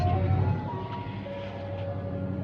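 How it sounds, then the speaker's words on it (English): A loud ice cream truck idles nearby without moving, its engine a steady low rumble with a faint tonal hum on top, and no speech is heard. "this ice cream truck is loud as fuck and not moving"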